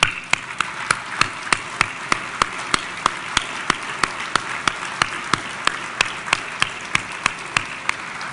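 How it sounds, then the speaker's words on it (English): An audience at the University of North Dakota Sioux Awards ceremony applauds award recipients as they stand, a steady, even wash of clapping with a few sharp, regularly spaced claps standing out near the front, continuing for the whole stretch. "you can stand up too, so we can applaud you again"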